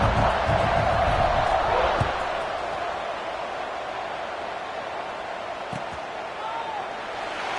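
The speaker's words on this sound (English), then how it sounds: "this crowd is buzzing after that last score" A stadium crowd at a college football game after a score makes a broad, steady roar that is loudest at first and then settles into a softer continuous buzz, with a few faint thumps.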